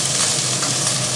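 Sliced ridge gourd dropped into hot mustard-style oil with fried black cumin seeds, giving a steady, loud, close broadband sizzle that holds evenly throughout with no talking.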